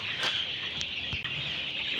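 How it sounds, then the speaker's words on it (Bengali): Broiler chickens clucking and murmuring steadily across a poultry farm troubled by disease, with a few sharper calls standing out over a constant background hum. "মুরগিটা দেখতে পাচ্ছ যে মুরগি আসলে রাশেদ ভাইয়ের যে খামারে সমস্যা হচ্ছে"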